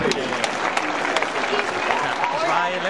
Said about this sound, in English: Ladies and gentlemen, a round of applause for the Krajicek family and the Borg family